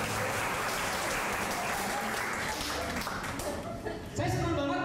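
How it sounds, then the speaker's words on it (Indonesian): Steady audience applause at a live comedy show in Bali, continuous clapping that swells slightly near the end, with some crowd voices mixed in. "Tepuk tangan dulu dong Indonesia."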